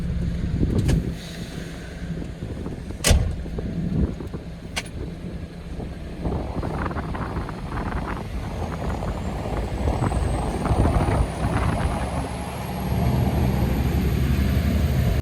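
A Nova Poshta MAN truck pulls away, its diesel engine rumbling low and steady from inside the cab, with a few sharp clunks early on, buffeting wind noise and a slowly rising whine as it gathers speed.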